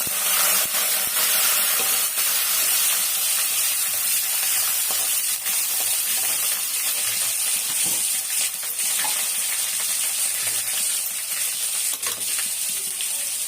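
Fenugreek, vadagam, curry leaves and about ten small shallots sautéing in hot oil for a fish curry, producing a loud, continuous bright sizzle with occasional scraping stirs; no voices.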